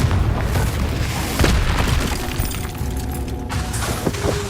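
Loud Confringo spell blast in the Hogwarts Legacy video game, a dense booming burst with crackling debris, sustained rumble and a brief quieter tail near the end.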